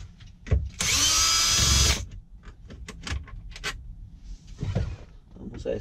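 Power screwdriver whirring in a single loud burst of about one second while unscrewing a truck stereo, with hands handling parts and a few clicks around it.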